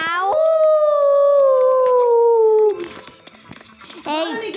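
A voice imitates a dog howling with one long, loud, steady wail that slides down and fades, followed by a short burst of talk and then another howl-like cry starting.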